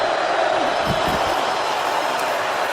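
Stadium crowd roaring during an NFL game between the Detroit Lions and Tampa Bay Buccaneers, a steady loud wash of noise with a few thuds near the start, under indistinct talk.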